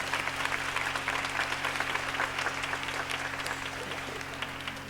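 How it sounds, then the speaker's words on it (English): An audience claps steadily for a political guest, Assemblywoman Ellen Corbett, at an evening event with a choir, dense applause holding at an even level before tapering slightly at the end. "Give her a hand clap as she comes, please."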